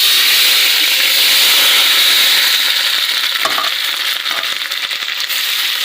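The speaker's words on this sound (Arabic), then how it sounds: "نشوح البصل بتاعتنا شوية كده" Onions sautéing in hot oil in a pan for a bean and meat dish, a loud, constant hissing sizzle with a brief burst of crackle and scraping from stirring midway, no talk.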